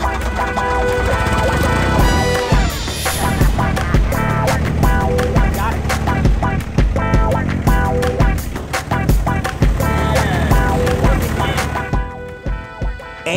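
A 1965 Ford 4000 tractor engine runs loud and close, a continuous harmonic drone with dense rattling and clanking throughout.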